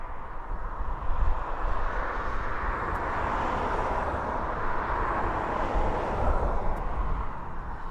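DHL Boeing 767 engines at East Midlands Airport, a broad, moderately distant jet roar that swells and eases slightly as the aircraft moves on the ground.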